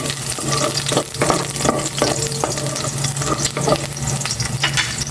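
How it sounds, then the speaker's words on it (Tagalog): Garlic being sautéed in oil in a home kitchen, giving a steady sizzle with stirring and scraping strokes throughout, close and fairly loud, with no talking. "Igisa ko na itong bawang."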